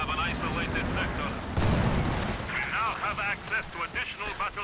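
Walking Stuka rocket artillery firing in Company of Heroes 2, heard as a dense rumbling barrage of booms and whooshes with battle noise, while a commentator talks over it.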